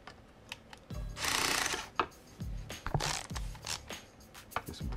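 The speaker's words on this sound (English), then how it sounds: "I'm going to go ahead and take off the last two screws on the bottom that are holding the differential in place." Tools work loose the bottom screws holding the rear differential of a Traxxas Slash LCG RC truck, giving close, irregular clicks, ratcheting turns and short scraping bursts with brief pauses between.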